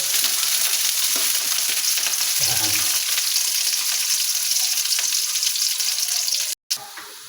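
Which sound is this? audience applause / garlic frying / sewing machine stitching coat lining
garlic frying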